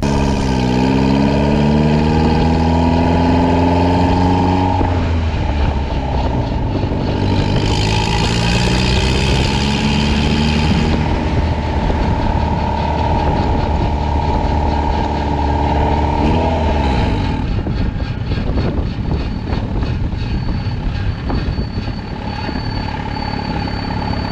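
A 500hp turbocharged Honda Civic build drives off, its engine droning steadily and then climbing in pitch through the gears, loud and close.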